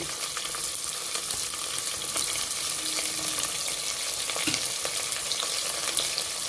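Onion and green chili pieces fry in a pan for tomato pulao, a dense continuous close sizzle with occasional crackles and light stirring, no talking.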